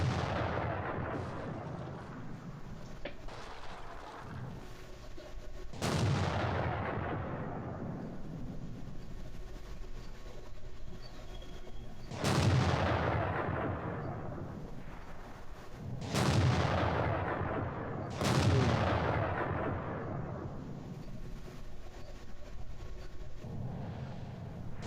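Tank cannon fire from a T-34-85 in World of Tanks, several sharp heavy booms spaced seconds apart, each trailing off in a long rumbling decay over steady engine drone.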